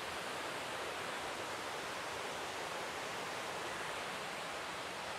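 Steady rush of water flowing in a creek or waterfall along a mossy forest track, a constant even roar with no breaks, moderately loud and heard alone.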